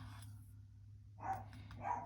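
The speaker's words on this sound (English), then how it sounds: "Please ignore the dog barking, if you can hear that." A pet dog named Mr. Spotley barks twice in the background, faint and distant, the two short yaps separated by a low steady hum in a quiet room.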